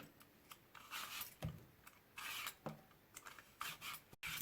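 Apples being peeled for an apple crumble, giving soft rasping scrapes in short bursts close up, with small clicks and handling noises between strokes.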